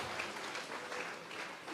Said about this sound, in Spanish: Vamos a regalarle ofrenda de palmas al Dios de la gloria, hermano